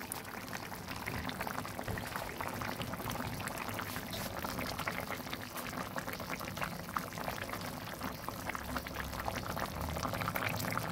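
Papaya sukto, a Bengali vegetarian dish seasoned with salt, simmers in a pot with a continuous bubbling, churning sound that stays even and fairly close throughout, with no voices.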